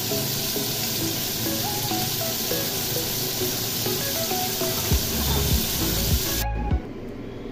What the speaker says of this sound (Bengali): এবার এখানে আমি চিংড়ি মাছগুলো একটু ভেজে নেব